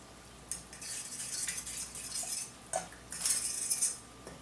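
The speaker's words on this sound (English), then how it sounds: "Stir that up just a little bit. It's melting." Brown sugar sauce melting in a pan as a utensil stirs it, giving soft scraping and light clinks that come in two bursts with a short pause between them.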